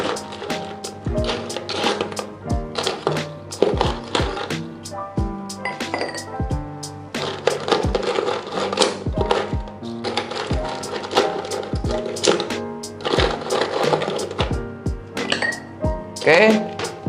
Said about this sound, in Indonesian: Lalu jangan lupa kita tambahkan es batu.